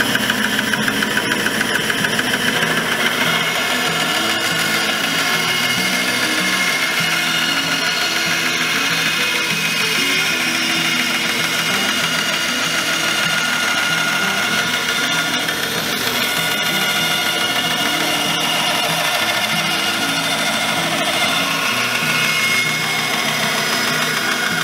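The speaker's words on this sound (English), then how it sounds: "And then I simply use my bandsaw and cut it out." A woodworking bandsaw cuts out a traced shape, a steady whining motor and blade drone running loud and unbroken from start to finish with slight shifts in pitch as the cut proceeds, no talking.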